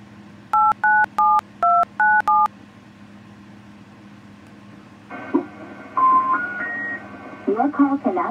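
A touch-tone telephone keypad dialing a number: seven quick dual-tone beeps in a steady rhythm, clear and close over a low background hum, followed by falling and rising electronic tones and a brief voice.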